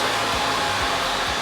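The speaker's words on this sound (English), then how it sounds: "we're going to use a little bit of a mousse just to give his hair some volume while we're blow drying" A handheld blow dryer drying a man's hair after mousse is applied, during a men's haircut, a steady close, loud airflow roar held throughout, with faint periodic low thumps as the dryer is moved.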